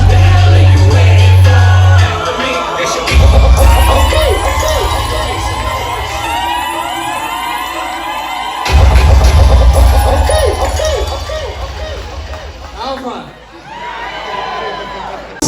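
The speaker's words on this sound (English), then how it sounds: "please clap for yourself." Audience at a comedy show cheering and clapping, loud and close, with whoops and shouting swelling in two waves before easing off, voices mixed through the crowd noise.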